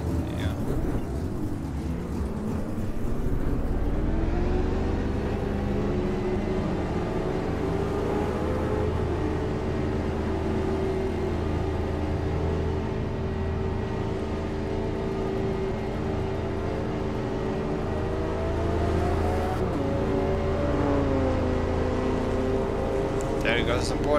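A Ford GT40 in a racing video game drones steadily as its engine climbs and eases through the revs, the sound continuous and fairly loud with someone talking over it.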